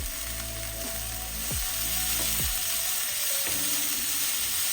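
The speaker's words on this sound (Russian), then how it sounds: "Рис добавляем порциями. Выключили газ, и в это же время мы продолжаем мешать рис с овощами." Rice and vegetables fried in a pan for a Pakistani-style Indian curry dinner, with steady broadband sizzling and several scraping strokes of a utensil stirring through the mix, close and continuous with no talking.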